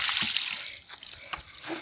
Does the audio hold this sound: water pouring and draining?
yes